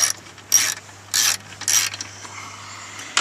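Ratchet wrench with a 10mm socket loosening bolts on a Mazda CX-9 interior panel, three quick bursts of rapid clicking separated by short pauses, close up with no speech.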